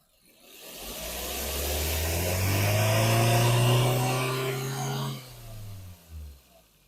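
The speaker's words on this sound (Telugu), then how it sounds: "ఇంజన్ది చాలా సైలెంట్ ఉంది" A 2017 Maruti Swift Dzire VXI petrol car engine revs up close by, climbing steadily in pitch for about five seconds, then dropping back toward idle with a short final blip.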